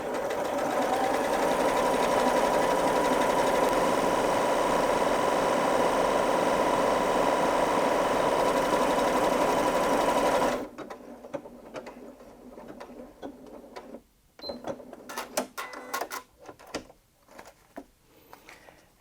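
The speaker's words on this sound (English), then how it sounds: "let's go ahead and stitch something out now so that you can see that monogramming in" A Janome Memory Craft 8200QCP sewing machine stitches out monogram lettering, a loud steady mechanical whirr running continuously for about ten seconds and then stopping abruptly, followed by quieter clicks and handling sounds.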